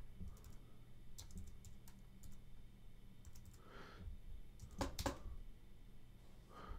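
Keys on a computer keyboard tapped while entering a git commit command, with scattered clicks and a brief quick burst of keystrokes near the end, close and fairly quiet over a low room hum.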